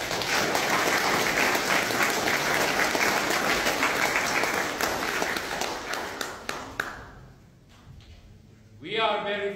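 A room at a Masonic District gathering breaks into a big round of applause for the district inspector. The clapping is dense and sustained, then thins into a few scattered claps and stops, and a voice briefly follows.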